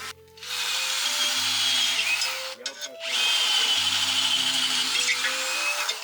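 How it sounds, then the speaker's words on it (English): A long wood drill bores steadily into a wooden shovel handle, a continuous whirring grind that pauses briefly midway and then resumes close by, loud and alone. "meanwhile I got the long wood drill and I'm trying to use this"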